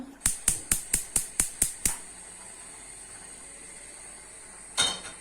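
A gas stove burner is lit under a pot of milk: about eight quick, sharp igniter clicks in a steady row, then a short burst as the flame catches.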